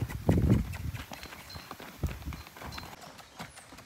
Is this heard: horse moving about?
yes